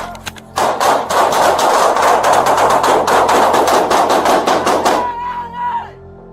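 Police gunfire tears through a supermarket shootout as a rapid, dense burst of loud, echoing shots about four seconds long, followed by a ringing tail and fading reverberation.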